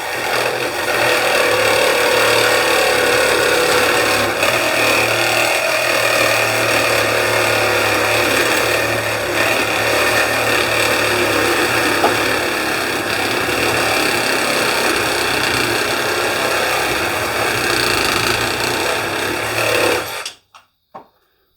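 Makita CXT 12V max cordless hacksaw cutting steadily for about twenty seconds, a loud continuous reciprocating buzz that stops abruptly at the end.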